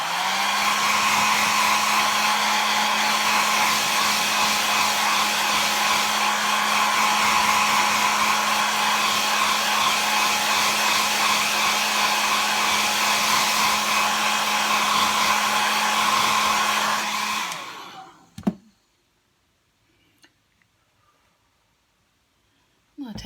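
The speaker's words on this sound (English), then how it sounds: "All right, I'm gonna dry it." A hair dryer blows steadily on paint drying on an art card, a loud continuous whir with a strong low hum that runs for about seventeen seconds before switching off, leaving near silence with a couple of faint clicks.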